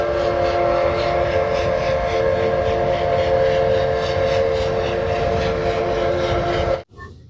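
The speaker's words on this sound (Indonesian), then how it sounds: "Wow, lihat di sini ada kereta Thomas." A toy Thomas train plays a loud, steady electronic train sound with whistle-like tones that runs continuously before cutting off abruptly near the end.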